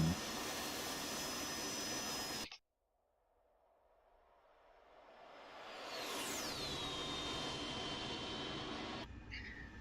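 An AV-8B Harrier II jet in a DCS flight simulator gives a steady loud engine roar, cuts to near silence, then swells back with a rising, sweeping whistle before the roar settles and cuts again.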